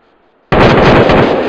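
Gunfire in the video game Arma 3 breaks a near silence with a sudden, very loud, sustained burst of rapid shots that holds at full strength to the end.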